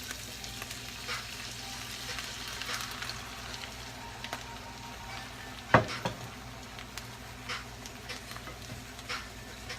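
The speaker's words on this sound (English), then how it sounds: "We get that frying egg." Eggs frying in butter in a pan give a steady, close crackling sizzle throughout, with one sharp clatter near the middle.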